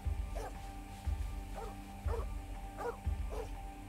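A dog barks repeatedly in a video game, about five short yapping barks spaced roughly half a second to a second apart, fairly clear over a steady low background tone.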